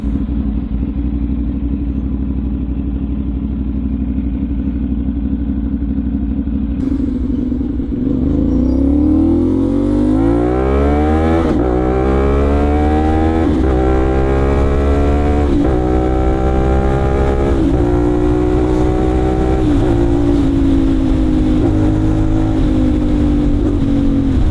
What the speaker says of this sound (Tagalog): bigyan ko kayo ng isang hataw para marinig nyo sa action camera yung tunog ng motor.